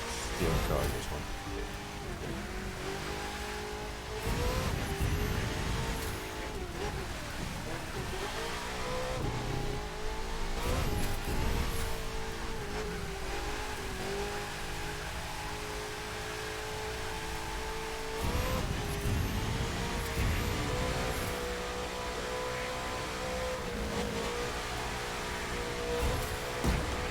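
A car races in The Crew 2 video game, a steady engine drone that rises and falls with revving and acceleration and runs throughout, while a person talks over it.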